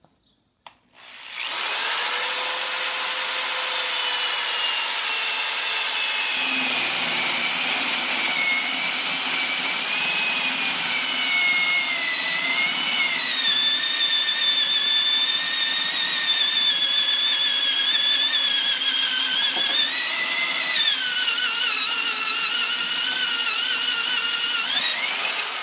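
A countersink bit grinding into wood while drilling keel bolt holes, a steady high-pitched whining drill sound that runs continuously after a brief start, with the pitch wavering slightly as the bit bites deeper.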